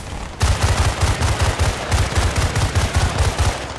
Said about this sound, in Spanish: ¡Ametralladora allí!